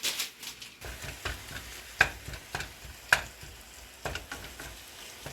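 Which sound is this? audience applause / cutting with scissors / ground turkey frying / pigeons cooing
ground turkey frying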